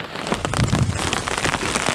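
Steady autumn rain patters densely on a surface at a hammock campsite on the Loyalsock Trail, a continuous close hiss of drops with no voices.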